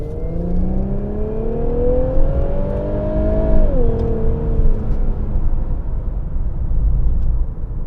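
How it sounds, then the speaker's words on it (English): A 2017 Infiniti Q50 with a 3-liter twin-turbo V6 accelerates hard, its engine note rising steadily in pitch for several seconds before dipping at a gear change and settling into a loud, steady drone. "what you just witnessed there was the 3-liter twin-turbocharged V6 motor"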